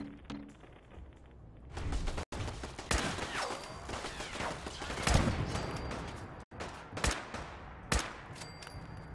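Gunfire in the game Fallout 4, during a fight with the Rust Devils and robots: repeated sharp gunshots and bursts, some loud and close, with several strong cracks spread through a dense battle din.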